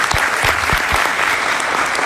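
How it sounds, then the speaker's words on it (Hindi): An audience at a team-building speech claps in a brief burst of applause, close and lively, with rapid overlapping hand claps filling the moment. "तो प्लीज एक बार, you know, रवि के लिए ताली बजाइए."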